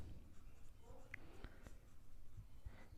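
A pen or pencil writes integration math on paper with faint, scratchy strokes and a few soft taps, quiet and close over a low background.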